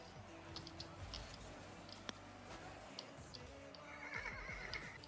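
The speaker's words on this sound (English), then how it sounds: "that's the sound the horse makes" A horse neigh sound effect plays during a Rocket League match. It sounds faint and low, with soft clip-clop-like ticks over a quiet game background.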